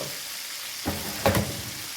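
Young rabbit meat frying in a pan: a steady spattering sizzle, close by, with a few louder pops and a brief scrape or stir in the middle, no one talking.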